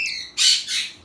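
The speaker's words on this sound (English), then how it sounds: "you can hear all my other birds in the background" Pet cockatiels and other caged birds squawk loudly and harshly nearby, two raspy shrieks plus short chirps packed into about a second, with no speech.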